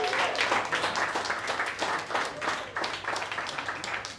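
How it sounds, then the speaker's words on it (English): A crowd claps steadily for the baker at the grand opening of Salam Bakery, a French and Lebanese artisan bakery in Port Melbourne. The dense, even applause sounds somewhat distant and moderately quiet for about four seconds. "which I think deserves a round of applause for Mariana"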